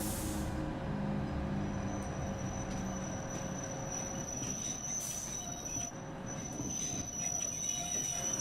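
TGV wheels squeal steadily and loudly as the high-speed train brakes into a station on the LGV line from Marseille to Avignon in Train Simulator 2017, with faint rail rumble beneath and no voices.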